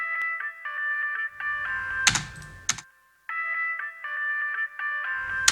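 A processed synth tone somewhere between flute and guitar, treated with CLA stereo effects, plays bright sustained notes in short phrases, interrupted midway by a couple of sharp clicks and a brief silence, with no voices.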